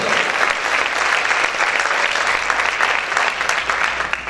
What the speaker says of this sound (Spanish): ¿Cuántos pueden aplaudir más fuertes?